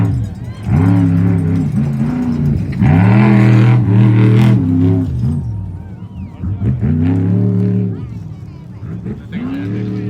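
A Class 1 trophy truck races past on the desert course at the Mint 400 in 2024, its engine roaring loudly with rising and falling harmonic sweeps in several close passes while spectators talk over it.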